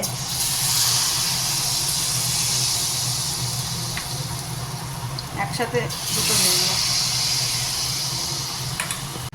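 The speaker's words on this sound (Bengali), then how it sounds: "তো ওদিকে মালপোয়া ভাজা হচ্ছে" Malpua frying in oil, heard as a steady, loud hissing sizzle that runs throughout, with a brief clatter of utensils in the middle and a person speaking over it.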